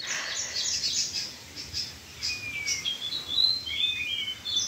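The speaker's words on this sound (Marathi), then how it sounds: "पक्षी तर खूप अशी म्हणजे अशी चिवचिव कलकल असं मस्त दिवसभर यांचं संगीत ऐकू येतं मला" Birds chirp and call on a farm by a green field embankment, thin high tweets and whistled calls scattered over a soft, steady outdoor hiss with no talking.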